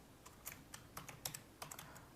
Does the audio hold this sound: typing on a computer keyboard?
yes